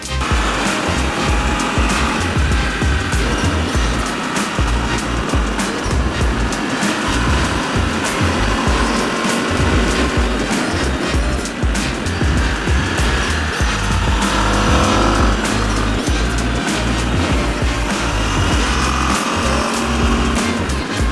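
A 2021 Aprilia RSV4 Factory motorcycle being ridden: a loud, unbroken roar of engine and rushing wind that holds steady throughout, with no speech.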